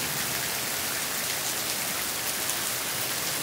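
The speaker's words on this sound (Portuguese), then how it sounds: "Aí parou de ventar. Tá só chovendo." Steady rain pours down in a dense, even hiss of drops hitting surfaces, unbroken throughout.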